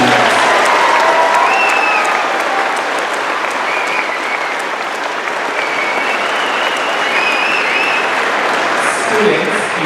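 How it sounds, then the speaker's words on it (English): Sustained audience applause fills a high school graduation ceremony, loud and steady clapping from a large crowd continuing for about ten seconds without a break. "Please give these students a round of applause for their scholarship achievements."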